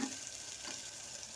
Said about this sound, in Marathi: मसाला भाजत आलेला आहे